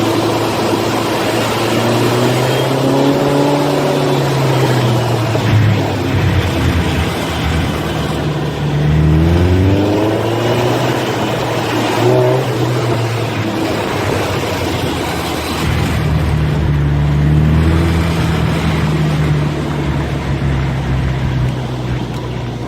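An old-school custom Volkswagen trike engine revs up hard through a couple of gears, its rising drone dropping at each shift before climbing again, loud and close throughout.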